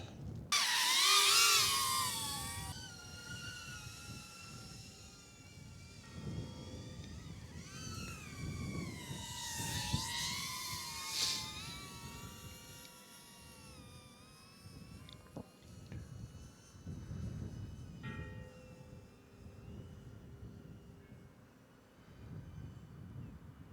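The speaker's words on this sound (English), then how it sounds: "Let's get it in the air one more time." A BetaFPV Pavo20 Pro II FPV drone with prop guards flying outdoors, its high whining propellers rising and falling in pitch as it manoeuvres, at times close and loud, at times fading farther away.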